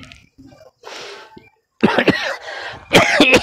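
Repeated coughing from a sick person, several harsh coughs in quick succession, loud and close, with a short quieter cough and breathy sounds before them.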